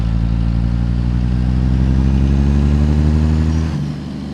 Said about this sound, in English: A lot more engine sound up front, which is good.